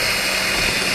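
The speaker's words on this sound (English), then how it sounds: "drill down with a battery drill and a 3mm drill bit" A battery drill fitted with a 3mm bit bores steadily into material, giving a continuous loud whirring hum with no pauses.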